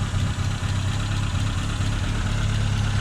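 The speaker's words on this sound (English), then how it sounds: "Car's idling." A Nissan S12 200SX engine idles steadily with a low, even rumble, close and continuous with no other sounds.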